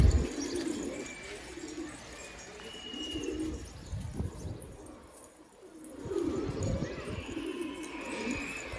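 Young pigeons on a rooftop coo in soft repeated phrases, fairly close, over a quiet outdoor background with brief chirps.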